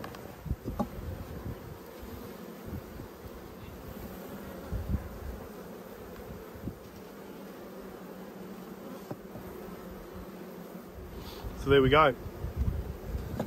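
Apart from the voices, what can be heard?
honey bees buzzing at an opened hive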